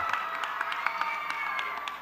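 Junior high school students in a crowd at a Martin Luther King Jr. vigil cheer and applaud steadily, a dense wash of clapping with shouts rising through it, moderately loud and continuous.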